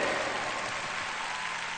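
A concert audience applauding, dense steady clapping that fills the whole moment at an even level, with no voices over it.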